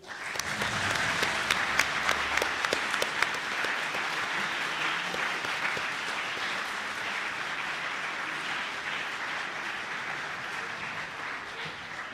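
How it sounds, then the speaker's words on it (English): A large audience at a model UN closing ceremony claps for Disarmament Committee delegates, a dense, sustained round of applause that stays loud before gradually easing. "This applause is for you."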